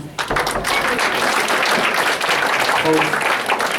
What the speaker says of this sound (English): Can we give a round of applause for John?